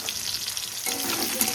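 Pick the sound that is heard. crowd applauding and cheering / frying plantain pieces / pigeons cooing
frying plantain pieces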